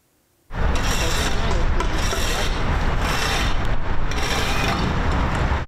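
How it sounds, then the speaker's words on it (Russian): Renovation work in a city park in Gus-Khrustalny: steady, loud construction noise of drilling, knocking and sawing runs continuously for several seconds with no pauses. "Здесь сверлят, стучат и пилят."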